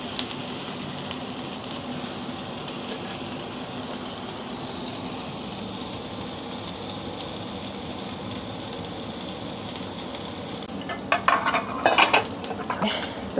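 Sausage sizzling in a hot pan, a steady crackling fry that holds throughout, with a few louder clatters and spits near the end.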